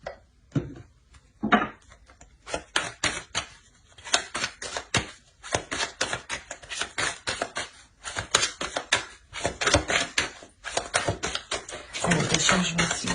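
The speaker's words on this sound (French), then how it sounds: "On va rajouter une carte avec le tarot." Tarot cards are shuffled and drawn, giving a dense run of quick papery flicks and taps, close and crisp, that speed into a continuous riffle near the end, with no talk.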